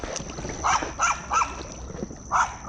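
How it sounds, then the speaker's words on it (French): A guard dog barks in short, separate bursts, about five yaps spaced across a few seconds, moderately close, over a faint background hiss. "Même lui, il est tanné de japper, je pense."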